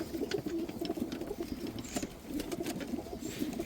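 Tumbler pigeons coo in repeated soft, throaty rolling phrases, fairly close, with light fluttering and patter around them and no talk.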